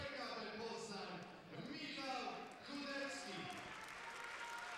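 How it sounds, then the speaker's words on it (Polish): Crowd applause from the audience in Konin after a 60 kg boxing final at the 2011 Polish championships, steady broadband clapping filling the hall while an announcer keeps speaking over it. "I wielkie brawa od konińskiej publiczności"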